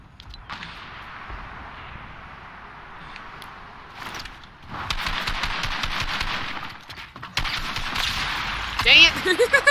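A ray gun fires in Fortnite Team Rumble: rapid bursts of zapping shots that grow louder midway, with a loud close volley near the end over quiet background game sound, and a voice speaking briefly.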